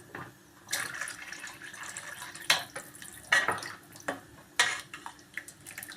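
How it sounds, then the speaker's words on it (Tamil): Water pours and splashes into a pot of Kilanga fish curry in several short bursts, with soft liquid sloshing and faint clinks in between. "நான் இன்னும் கொஞ்சம் தண்ணி சேர்த்துக்கிறேன்"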